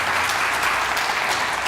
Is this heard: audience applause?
yes